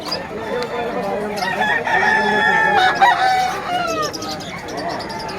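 Chickens cluck and a rooster crows amid a busy, noisy crowd of buyers and sellers at a pet market in Bocaue, with voices and bustle underneath.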